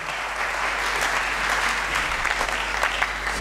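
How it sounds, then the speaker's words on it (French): A church congregation applauding during a sermon, steady, dense clapping from a large crowd that fills the room without a break. "Acclamons très fort pour nous."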